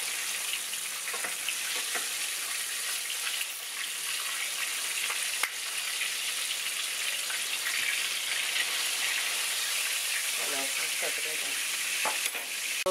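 Fish fillets fry in a pan with a loud, continuous close-up sizzle, and a few soft scrapes and knocks come as a spatula and spoon turn the delicate fish over.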